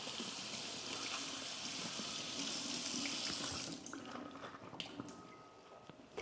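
Tap water runs steadily into a sink while an artichoke is rinsed under the faucet, a loud continuous hiss that drops off near the end as the flow is cut, leaving faint drips and handling sounds.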